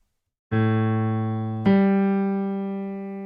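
A sustained tone, A, sounds alone, then a second note, F double sharp, replaces it after about a second, both ringing steadily and slowly fading.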